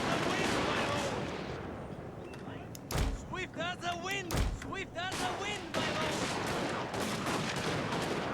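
Gun lines firing volleys in the Fall of the Samurai strategy game, sharp shots at about 3 and 4.5 seconds over a dense din of battle, with a voice talking through the middle.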